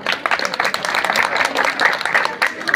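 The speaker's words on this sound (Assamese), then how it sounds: "এটা হাত চাপৰি দিলে বৰ ভাল পাওঁ" An audience at a Puja celebration bursts into steady, dense applause, loud and close, with a few voices mixed into the clapping throughout.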